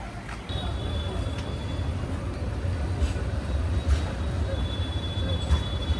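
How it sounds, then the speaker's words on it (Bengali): Korotoa Express train pulls out of Aditmari station with a steady, rumbling roll of carriages, a low continuous drone and faint high whine holding evenly throughout, no voices present. "আমাদের ট্রেন ছেড়ে যাচ্ছে অদিতমারি স্টেশন"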